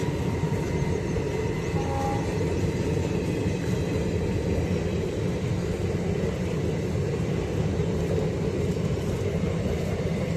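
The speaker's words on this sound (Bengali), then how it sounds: "ট্রেন এখন জিয়াগঞ্জ স্টেশনে ঢুকছে।" The Hazarduari Express with LHB coaches pulls into Jiaganj station, giving a continuous heavy rolling rumble with faint rhythmic wheel clatter and a brief tone from its horn near the start.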